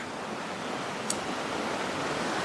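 Steady broadband rush of water flowing in two streams on either side of an outdoor spot with trees behind, a continuous even wash throughout with no voices.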